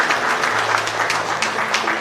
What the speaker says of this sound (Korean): 꼭 박수로 보내주시기 바라겠습니다